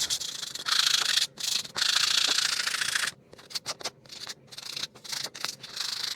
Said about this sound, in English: Now for everybody's favorite part, sanding.